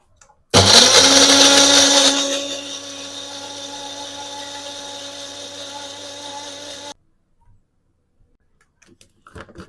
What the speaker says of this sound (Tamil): இப்போ இதை நல்லா கிரேட் பண்ணி எடுத்துப்போம்.